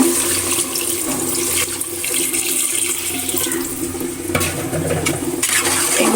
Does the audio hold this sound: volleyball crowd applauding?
no